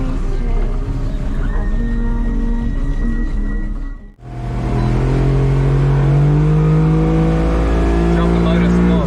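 An outboard motor on a fishing boat runs loud and steady close by, dips sharply for a moment partway through, then comes back up to a strong, rising drone as the motor is lowered.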